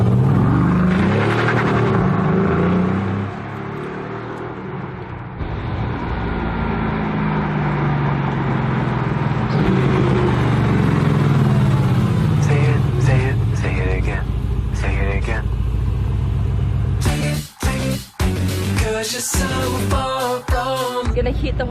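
A Mercedes-AMG sports car engine drones loudly and steadily while driving, rising and falling with revs, with someone talking over it in places.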